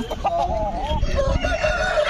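Roosters crow at the Nallapadu chicken market, with several long, wavering calls overlapping one another, loud and close against a steady crowd murmur.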